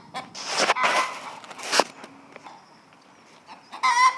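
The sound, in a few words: chicken clucking in a garden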